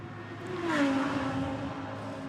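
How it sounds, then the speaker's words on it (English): A DTM race car roars past a trackside microphone during free practice at the Norisring street circuit, its engine note rising and then dropping sharply as it passes close by, loud and alone. "The cars sound awesome when they go past that microphone."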